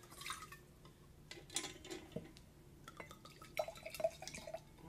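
Water trickling and dripping as a wine glass is rinsed, faint scattered splashes and light glassy clinks at close range, no talking.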